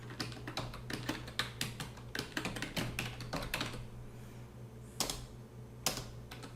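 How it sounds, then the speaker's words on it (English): Quick, close typing on a computer keyboard, bursts of crisp key clicks at an uneven rhythm, then a pause and two separate firm keystrokes, over a faint low hum with no talking. "we'll first change the text size and we'll start typing the caption"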